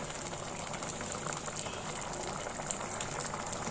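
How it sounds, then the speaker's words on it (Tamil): A pot of masala for turnip and toor dal kootu simmers on the stove, bubbling in a soft, steady, continuous hiss with no talking. "மசாலா கொதிச்சுது பாருங்கள்"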